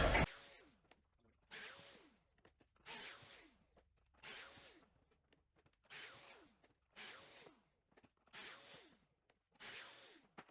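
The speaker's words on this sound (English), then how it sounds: "So let's now drill some pocket holes." Pocket holes being drilled into wood panels for a workbench: eight separate bursts of a power drill, each lasting a second or two with short pauses between, close and loud with no talking.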